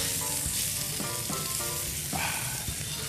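Salmon fillet frying in a pan for a garlic honey glaze, a loud, dense, continuous sizzle close up, with a few soft crackles and no voices.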